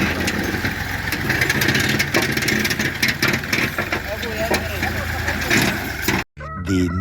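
A newly fitted tubewell engine runs with a steady, loud mechanical drone throughout, voices talking over it, then briefly cuts out near the end before resuming.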